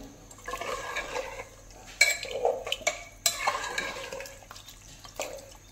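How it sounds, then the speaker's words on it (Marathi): Chicken curry is stirred in a cooking pot, with a spoon scraping and clinking against the metal in irregular strokes, wet sloshing between them, close up and alone. "आता छान असं मिक्स करून घ्यायचं."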